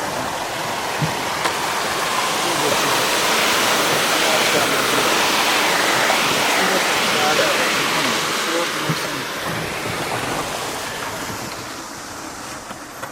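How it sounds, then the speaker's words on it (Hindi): A waterfall between Naran and Babusar Top roars as a loud, continuous broadband rush of falling water, with someone briefly speaking over it. "बड़ा ज़ोरों शोर से आबशार से पानी नीचे आ रहा है और पानी का काफ़ी ज़ोर है"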